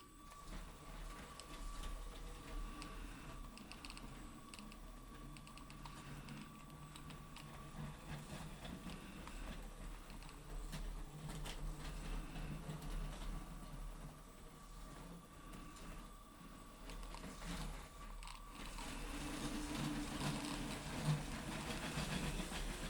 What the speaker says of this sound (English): So here's the train, fitted out with a power functions motor and an infrared sensor.